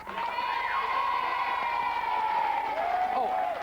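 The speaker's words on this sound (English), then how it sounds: "please give a massive round of applause to our guests." Studio audience applause on a 1992 children's TV show, a short burst of clapping and cheering with some children's shouts, steady and fairly loud throughout.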